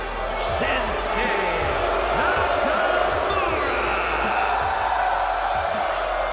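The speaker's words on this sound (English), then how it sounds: "You hear the crowd singing along to the theme" A wrestling video game crowd singing along to Shinsuke Nakamura's entrance theme, a steady roaring wall of arena voices with a deep thumping beat underneath throughout.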